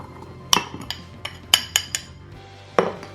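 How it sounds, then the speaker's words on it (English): Melted butter and brown sugar stirred together in a bowl for monkey bread: a spoon knocks and clinks against the bowl in a handful of sharp, uneven taps close by, with no voices. "So I've got the butter melted. It's not all the way melted. You want kind of like this. Now I'm going to put the brown sugar in."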